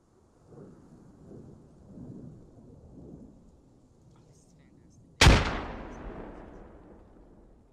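A grenade explosion in a tactical shooter video game lands as a single sharp, loud blast with a long rumbling decay, following quieter background rumble and faint talk.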